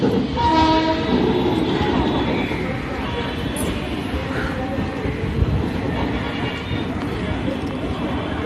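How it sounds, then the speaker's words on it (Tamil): A train passes steadily with a loud rumble and clatter across the whole stretch, carrying some tonal horn-like bands early on, while voices talk over it. "அதோ ட்ரெயின் வருது பாரு"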